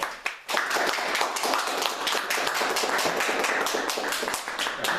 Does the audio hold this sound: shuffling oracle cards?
no